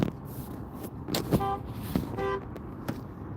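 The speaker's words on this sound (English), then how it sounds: "Fuck you honking at me for?" A car horn honks at a traffic light in two short harmonic blasts, close by, over steady engine and road rumble from inside a vehicle.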